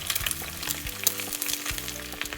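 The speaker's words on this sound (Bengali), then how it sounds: "সাথে একটু ডিম ভেজে নিচ্ছি" Eggs fry in a pan at breakfast, a close, steady sizzle with bursts of popping and crackle, plus a low kitchen hum underneath and no voices.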